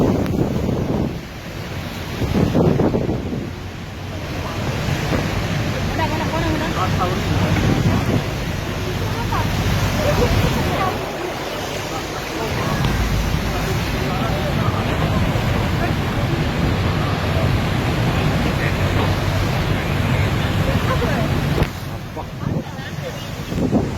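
The Rhine Falls at Schaffhausen roars as a loud, continuous broadband rush of crashing water with wind buffeting the microphone; muffled voices occasionally show through the din.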